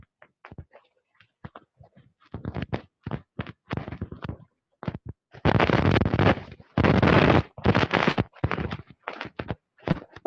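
Firecrackers go off outdoors in a loud, irregular string of sharp bangs and crackling bursts, some clustered into longer rattling volleys, with no talking.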